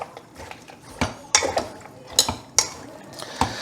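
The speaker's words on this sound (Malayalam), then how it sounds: "കൈകൊണ്ട് നന്നായിട്ട് മിക്സ് ചെയ്യാം കേട്ടോ." Pork pieces are mixed by hand with turmeric and salt in a bowl, producing a series of sharp clinks and knocks against the bowl at irregular intervals over soft, wet squelching, close to the microphone.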